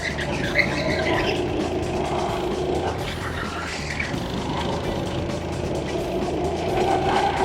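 A rental go-kart's small engine drones steadily at moderate level along a track in Bali, with a slight rise in revving toward the end.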